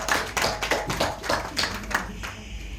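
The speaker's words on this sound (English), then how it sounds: "We should give them a big round of applause." Applause at a business networking club meeting in Kolkata: a short burst of hand clapping from a small group, moderately close, with irregular overlapping claps that fade slightly over a few seconds.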